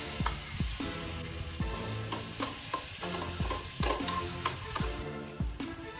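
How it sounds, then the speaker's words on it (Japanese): Chopped garlic and tomato stir-fry in hot oil in a pan, a steady close sizzle broken by repeated scraping stirs and clanks of the utensil against the metal, with no talk. "鍋を熱して油を垂らします。 刻んだニンニクを入れて炒めてまいります。"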